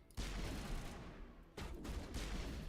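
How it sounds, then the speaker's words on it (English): Gunfire in Mass Effect: faint bursts of rapid shots in two clusters separated by a brief gap, distant and dull. "Why am I getting shot at?"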